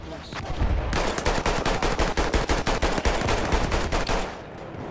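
Machine gun fire in the video game Battlefield 1 on PS4 Pro, a loud, close, sustained burst of rapid evenly spaced shots lasting several seconds.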